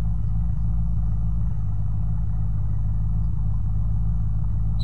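Car engine in the zombie survival game Unturned, a loud constant low rumble and hum of the vehicle being driven, steady with no pauses.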